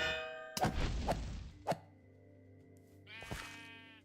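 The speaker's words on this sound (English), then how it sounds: "Hello, sheep." Clanking Minecraft sound effects, then a short wavering sheep bleat, faint against a quiet background.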